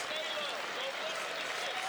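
A crowd in Rupp Arena, Lexington, applauding at a college basketball game between Kentucky and North Florida, a steady dense wash of clapping and crowd noise throughout with murmuring voices mixed in.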